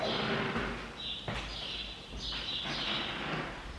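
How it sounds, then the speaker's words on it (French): Birds chirp in short, bright bursts after a storm, heard from a terrace. A few spaced calls come through over a background hiss, with an occasional dull knock or clatter nearby. "Et les oiseaux qui sont revenus après l'orage"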